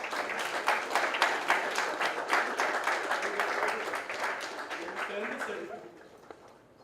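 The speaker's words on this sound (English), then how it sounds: "A big round of applause, please." Audience applause at a landscape architecture scholarship award ceremony, a dense crowd of clapping hands that is loud and steady at first, then thins and fades toward the end.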